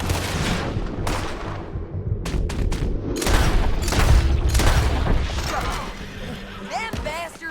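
Gunfire rings out in Red Dead Redemption 2, a loud close barrage of overlapping rifle and pistol shots with booming reports and ricochets, mixed with shouted voices.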